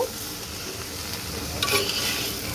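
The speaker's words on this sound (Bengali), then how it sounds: "সব কিছু এখন সুন্দর করে মিক্স করে দেব" Cabbage with salt and cumin powder is stirred in a hot pan, a continuous sizzle with a burst of scraping and clatter from the spoon midway, close and alone without talk.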